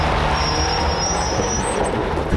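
A 4WD vehicle's engine drones steadily and loudly as it climbs a steep track on the Napoleon Hill 4WD route, with a continuous low rumble and faint high whine throughout.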